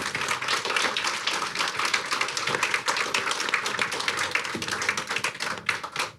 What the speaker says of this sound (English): I want to ask everyone to give our panel one more round of applause